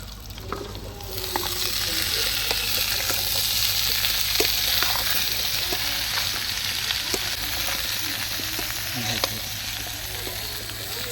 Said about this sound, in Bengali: তো আমাদের মশলাটা কষানো হয়ে গেছে, এবার আমরা এঁচড়গুলো দিয়ে দেবো